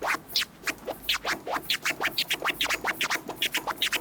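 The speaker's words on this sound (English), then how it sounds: "After that, you learn the OG flare forwards with the tear." A DJ performs the OG flare forwards with the tear, a rapid series of choppy vinyl scratch strokes, each forward push split into quick clicks in an even rhythm, loud and close with no talking.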